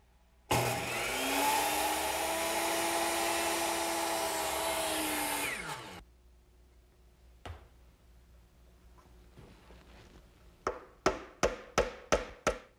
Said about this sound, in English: I'll cut these over here on my miter box, which is already set at a 90 degree angle.